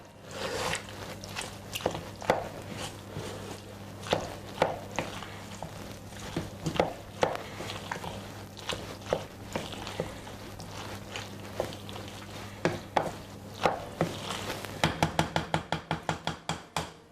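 Macaroni and cheese being stirred together with a dried Italian herb mix in a bowl, giving soft repeated scraping and clinking strokes over a low steady hum, ending in a quick run of sharper taps.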